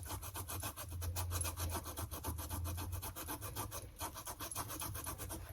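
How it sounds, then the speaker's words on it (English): Eraser scrubbing back and forth over a mark on a shoe, a fast, even rhythm of close, quiet rasping strokes with no talking. "I'm gonna see if I can use this eraser thing and just erase it"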